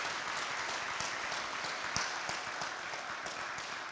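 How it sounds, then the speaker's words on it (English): A crowd gathered in a church space at an elementary school father walk event gives a pastor a round of applause, a fairly faint, dense patter of many hands with a few sharper claps, running steadily without voices. "can we give Pastor Blevins a round of applause"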